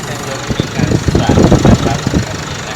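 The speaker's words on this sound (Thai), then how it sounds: "ฟังเสียงเครื่องยนต์กันก่อนนะฮะว่าเสียงเครื่องยนต์" A 2018 Isuzu All New Space Cab pickup with a 1.9 Ddi diesel engine idles up close with a low, even rumble, while someone talks over it.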